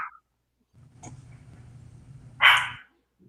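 A pet dog gives a single sharp bark, fairly close, after a few seconds of low background hum in an indoor setting.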